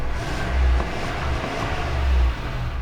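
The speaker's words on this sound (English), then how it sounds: "we get the engine running now" GMC Sierra Denali Ultimate pickup with a V8 running, two deep rev swells rising and falling over a steady low rumble, heard from close by with no talking.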